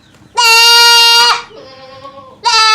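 A goat bleats loudly and close by in three calls: a long harsh cry, a quieter lower one, then a third beginning abruptly.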